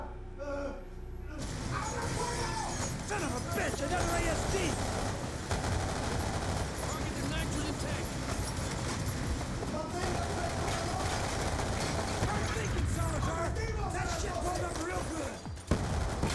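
Dense, continuous gunfire fills a Black Ops 2 firefight, with bursts and explosions layered over each other at steady loudness, while voices talk over the battle.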